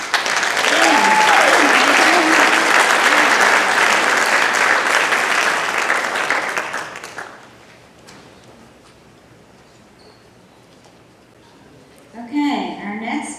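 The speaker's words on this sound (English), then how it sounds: "us a round of applause for Mr. Jim Sheldrake" Loud, dense applause from a concert-band audience fills the first seven seconds, then fades away into near silence before a voice begins speaking near the end.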